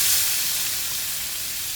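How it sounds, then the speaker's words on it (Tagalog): Onion hisses as it drops into melted butter in a pan, a bright sizzle that starts strong and eases slightly over a couple of seconds. "nag-melt na po yung butter niya at ilalagay ko na po yung onion"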